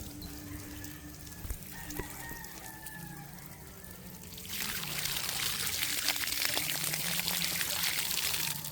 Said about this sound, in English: It's coming out the hose.